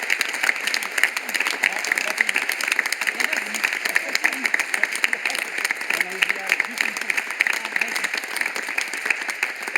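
A theatre audience applauds steadily at the close of an amateur troupe's stage performance, a dense, even wash of many hands clapping that carries on at a constant level throughout.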